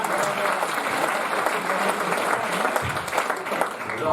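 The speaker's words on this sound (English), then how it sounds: "How about a big round of applause for all of our speakers so far?" An audience at a live storytelling night bursts into sustained, dense applause for the speakers, a steady wash of clapping from many hands that holds throughout.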